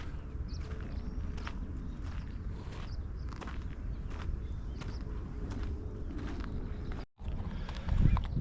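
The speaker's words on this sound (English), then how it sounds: "as I'm making my way across the trail, I ran into a horse" Steady, rhythmic hoof clops of a horse walking along a trail in Peter's Canyon Regional Park, close by, with an even pace and light outdoor ambience.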